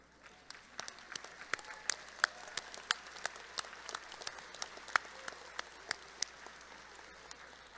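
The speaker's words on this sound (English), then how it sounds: "Graduates, please give a robust cheer and round of applause for their" Graduates applaud at a college spring commencement with sparse, scattered claps standing out against a soft background wash. The sound is quiet and distant, and the claps keep a loose, uneven rhythm with no audible cheering.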